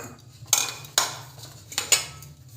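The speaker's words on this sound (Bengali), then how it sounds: "প্রথমে বাটিটাতে একটু তেল মাখিয়ে নেব।" A few sharp clinks and knocks from a bowl being handled and greased with oil for an eggless cake, about four distinct metallic-ceramic clatters spaced out over a low steady background, no talking.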